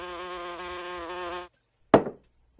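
A fly's harmonic buzz drones steadily for about a second and a half, close and clear, then stops; after a short silence comes a single sharp thud.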